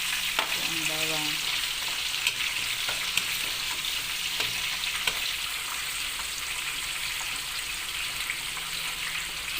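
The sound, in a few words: garlic frying with pork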